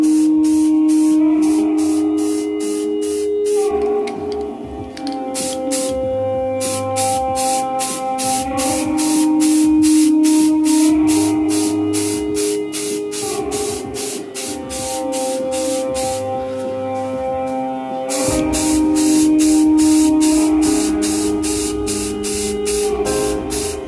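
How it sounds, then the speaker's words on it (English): A spray gun lays a light first coat of paint on a car wing extension, giving loud, repeated hissing bursts at a steady rhythm with short gaps between passes. "This is the first coat, so you don't have to apply too much paint."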